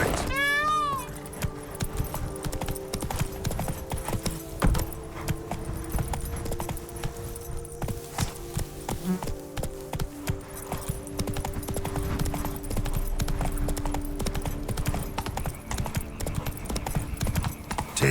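A horse galloping in The Witcher 3, a steady, close, rapid drumming of hooves running through the whole stretch, over game music with a brief whinny near the start and some talk.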